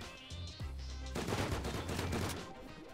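An automated turret in the game Rust fires in a rapid burst of gunshots, a sharp, crackling volley that lasts a couple of seconds after a low hum, heard fairly distant and quiet.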